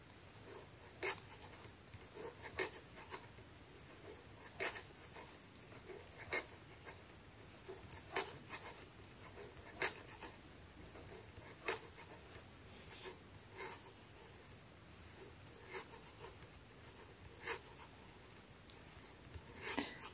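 Purl stitches worked on circular knitting needles for slippers produce faint, soft clicks and taps repeating in a loose, steady rhythm against a quiet room, with no speech.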